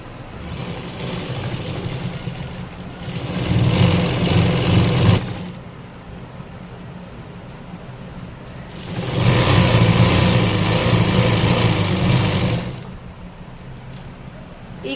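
A sewing machine stitches a narrow-cut pant in two loud, steady bursts of fast whirring, each lasting several seconds, separated by a quieter pause with low background noise.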